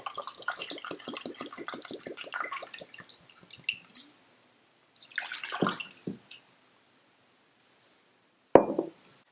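Apple cider vinegar poured into a jar for a pickling brine, a close, bright trickle with small drips and splashes that stops, resumes in a short burst, and ends with one brief clink.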